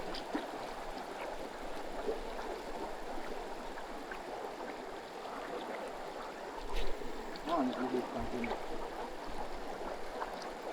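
River water rushes steadily through a jungle stream at a 4x4 off-road campsite, a continuous broad wash that stays up close throughout, with voices talking over it and a louder splash or surge near the end.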